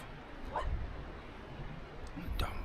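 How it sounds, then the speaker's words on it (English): A dog barks a couple of times at some distance near a beach wild camp along a coastal cycle route, short sharp yaps over a steady windy background hiss. "You hear the dog barking?"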